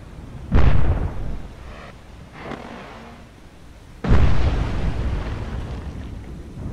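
Two heavy, booming missile launches from an Arleigh Burke-class destroyer's vertical launch system in the naval game Cold Waters, each a loud roaring blast followed by a long rumbling fade, a few seconds apart, with no voices.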